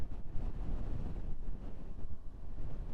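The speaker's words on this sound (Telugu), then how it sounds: "గాలి ఎక్కువగా ఉంది ఇక్కడ" Strong gusty wind roars and buffets the microphone at the 12,198-foot Namikala mountain pass in Ladakh, a constant low rumble with no voices.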